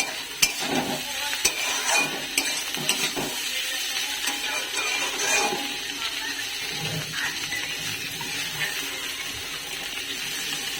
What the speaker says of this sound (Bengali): আলু ভাজা হচ্ছে আলু ভাজাটা দেখতে বেশ ভালো লাগছে